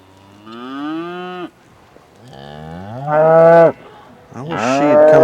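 Cattle in a pasture moo loudly and close, three long drawn-out calls with short pauses between, the later ones stronger and rougher, with no one talking.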